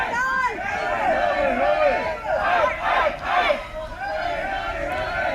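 A large crowd at a Saudi Arabia wrestling pay-per-view event chants and yells together in loud, rising and falling waves of massed voices that swell and surge throughout.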